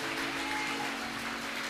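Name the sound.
church congregation applauding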